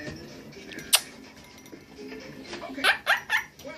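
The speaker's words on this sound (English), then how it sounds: "Oh, he's barking at me now." A pet dog barks several times in quick succession near the end, a few loud yelps close by after a quieter stretch with a brief sharp knock.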